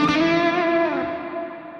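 Electric guitar chord played through a Neural DSP Quad Cortex with hall reverb, ringing loud and sustained, its bright overtones slowly decaying into a spacious wash over nearly two seconds.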